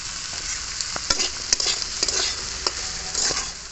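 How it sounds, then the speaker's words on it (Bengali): Ridge gourd fries in hot oil with turmeric, giving a dense, continuous sizzle broken by repeated scraping strokes of a spatula stirring the pan. No voice is heard. "ঝিঙেটা তেলে একটু নেড়ে নিয়েছি"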